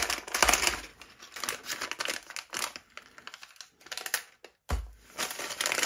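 A glued paper packet holding a limited LEGO Jurassic World trading card is ripped apart by hand, giving close, loud crinkling and tearing in irregular bursts with a brief pause before more rustling.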